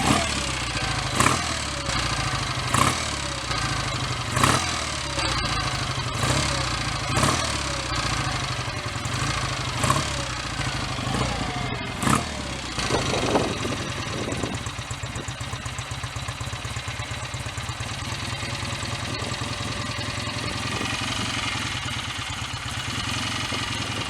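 A BSA A65 motorcycle engine idles with a rough, lumpy rhythm. Regular loud clattering beats punctuate the first half before it settles into a steadier, faster mechanical chatter, close and prominent.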